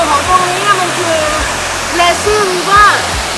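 Water rushes steadily through a lazy river at a water park, a continuous gurgling flow with people talking over it throughout.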